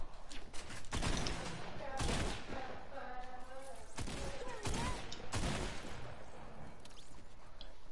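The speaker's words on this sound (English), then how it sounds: "Oh wow, I'm already getting shot at." Gunfire in a multiplayer video game shooter: loud bursts of rapid shots in several volleys, with a player's voice talking between and over them.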